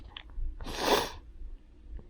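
A single sharp human sneeze, close and fairly loud, with a short breathy intake before it and quiet rustling after.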